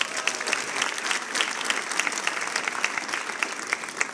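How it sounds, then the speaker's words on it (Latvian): Loud, dense applause from the audience at a FuckUp Nights event in Riga, a steady crackle of many clapping hands that lasts throughout with no voices. "Skaļi aplausi viņiem!"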